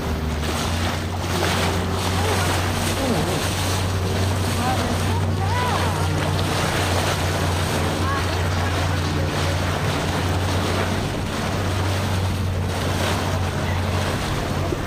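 A Zodiac inflatable boat rides in strong wind near Carcass Island, its motor droning steadily under constant loud wind buffeting the microphone and splashing water throughout.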